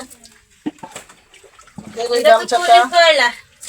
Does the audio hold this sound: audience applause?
no